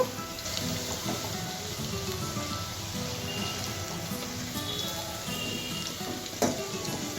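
Paneer pieces fry in oil with a continuous soft crackling sizzle, like light rain, holding steady throughout with a brief louder pop near the end.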